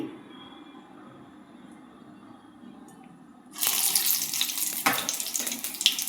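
Running water gushes loudly from a tap as hands are wet for shaping vadas, starting abruptly after a quiet stretch of low background hum and continuing with splashing.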